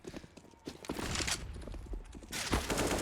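Rapid gunfire from Counter-Strike: Global Offensive during a pro match on the Train map, with pistol shots crackling in quick bursts, a louder volley near the end, and game ambience in the background.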